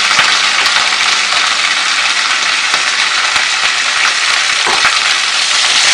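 Curry leaves sauté in hot oil in a pan, making a dense, steady sizzle that stays loud and even from start to finish, with no voices.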